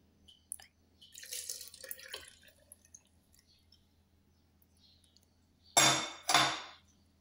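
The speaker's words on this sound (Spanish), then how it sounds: "Le vamos a estar agregando, mis amores, la leche" Milk is poured into a bowl of corn cake batter already holding eggs: a soft, brief trickle with light clinks of the container, then two loud, short bursts near the end.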